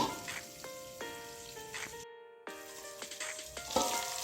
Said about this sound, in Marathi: परतून घ्यायची आहे थोडंसं हलवत राहायचं आहे जेणेकरून सगळ्या मिरच्या व्यवस्थित परतल्या जातील